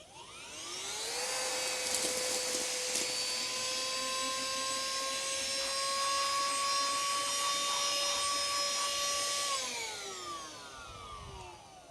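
An XREXS cordless handheld vacuum switches on, spools up to a steady high-pitched motor whine with a faint rattle of crumbs being sucked in, then winds down and shuts off after about ten seconds.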